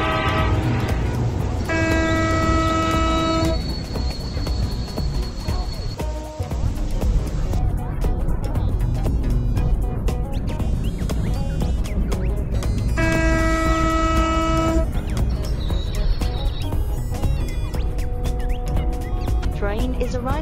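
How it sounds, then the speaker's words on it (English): In an Indian train simulator game, a train arrives at a platform with two long, loud horn blasts over a continuous rumble of rolling wheels and station ambience. "train is arriving at platform number 2"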